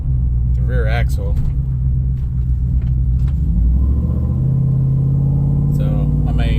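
Chevy Silverado truck with an aftermarket cam and headers, exhaust turned down past the rear axle, gives a steady loud low rumble throughout, with someone talking over it.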